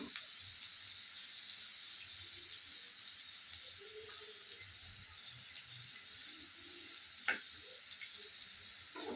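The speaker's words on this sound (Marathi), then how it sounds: "पुन्हा तेल टाकते. पोह्यांना जरा तेल जास्तच टाकायला पाहिजे, म्हणजे एकदम मऊ होते. 1 चमचा टाकते जिरे मी." Cumin seeds crackle in plenty of hot oil for Marathi kanda poha, a fairly faint, even sizzle with occasional small pops and a couple of brief clinks.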